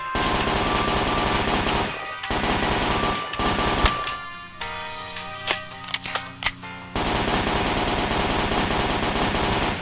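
Rapid gunfire from a gun in the Dude Theft Wars video game, long loud bursts of automatic shots broken by a pause holding a few scattered clicks and reload-like mechanical sounds, then another sustained burst.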